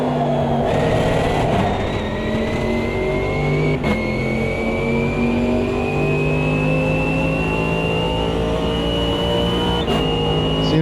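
A race car engine in the Automobilista 2 racing game roars loud and close, revving steadily upward through the gears with brief dips at shifts, sustained over several seconds.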